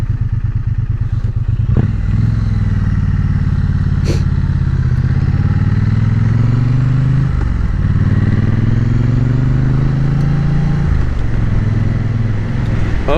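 Triumph Bonneville motorcycle engine heard from the rider's position, a loud continuous low rumble with shifting pitch as the throttle rises and eases, plus faint road clatter.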